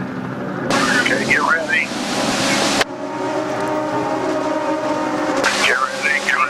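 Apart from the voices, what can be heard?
IndyCar race cars accelerating at 2007 Mid-Ohio race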